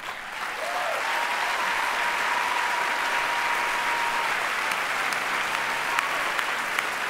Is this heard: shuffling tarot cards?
no